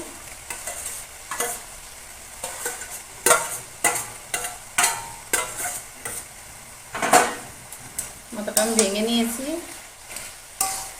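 Fried rohu fish head being stirred into ash gourd curry in a pot, rhythmic scraping and knocking of a spatula against the pot over a soft sizzle, close, with a short burst of talking near the end.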